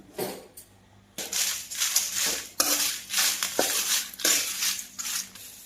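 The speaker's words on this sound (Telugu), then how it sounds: "కొంచెం ఆయిల్ పోసుకుని మిరపకాయలు వేపుకుందాము" Dried red chilies are stirred in a little oil in a pan, producing a series of close, dry scraping and rattling bursts with short quiet gaps between them.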